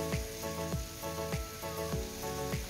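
Chicken and green beans stir-fry in a pan under a steady sizzle, with a spatula scraping through in an even rhythm about twice a second, close and clear.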